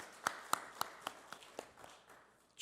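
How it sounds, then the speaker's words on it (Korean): A few people clap at a Korean early-morning church prayer meeting, giving a sparse, faint run of about eight separate claps that slows and trails off, with no voices. "박수 한번 하시겠습니다"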